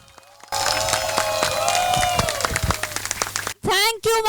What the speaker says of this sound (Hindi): उन सभी के लिए एक बार जोरों से तालियां बजा दे